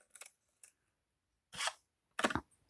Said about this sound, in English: if your scissors is ever giving you trouble, it's probably because there's too much paper in the way